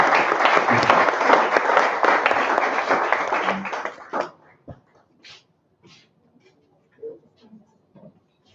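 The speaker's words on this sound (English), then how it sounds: "Another warm round of applause for Gas to Green." Warm applause rises at an energy competition awards session, dense, close clapping for about four seconds that cuts off sharply, followed by scattered soft sounds and small noises in a quiet room.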